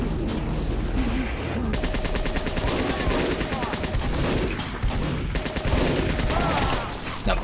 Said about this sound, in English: Now look at the needle gun.